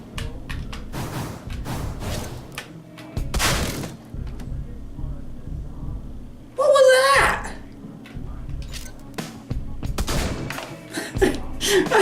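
Blunderbuss blasts in the Deadbolt video game come as a few sharp, heavy shots scattered among game noises, with a louder burst midway and someone talking throughout.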